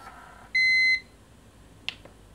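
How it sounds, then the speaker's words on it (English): A Jaxjox smart dumbbell on its rack gives a single short, clear electronic beep, followed moments later by a brief faint click in an otherwise quiet room. "when it beeps, that means that it's ready to take it off the rack"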